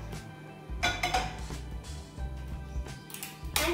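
Metal pan being handled on a kitchen stove, clinks and scrapes of cookware and utensils with a few bright knocks over a steady low background hum.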